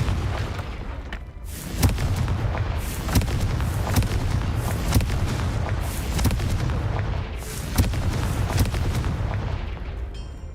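Confringo blasting spells in Hogwarts Legacy fired in rapid succession, a dense barrage of sharp booming blasts and cracks, about one or two each second, loud and close over a continuous rumbling bed, with no talking.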